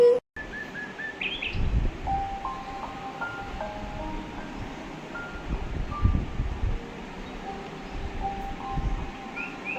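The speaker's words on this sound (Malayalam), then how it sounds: "കാണ് നോക്ക് എത്ര കിളിയുണ്ട്" Birds chirp and tweet outside a Kerala home, with short repeated calls and whistles scattered over a steady rumbling background, moderately close and without talk.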